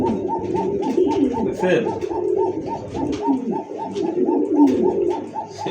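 Male domestic pigeons at a breeding farm coo in steady repeated rolling calls, close and fairly loud, with someone speaking briefly over them.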